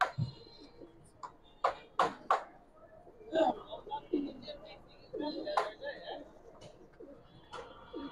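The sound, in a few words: pigeons cooing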